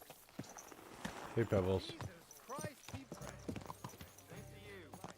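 A horse's hooves clip-clop in Kingdom Come: Deliverance 2, steady rhythmic knocks with a brief whinny, heard under a man's speech.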